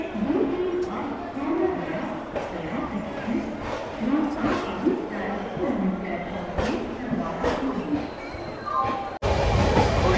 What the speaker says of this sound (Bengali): দেখো পুরো ট্রেন কিন্তু ছেড়ে হাওড়া স্টেশন ছেড়ে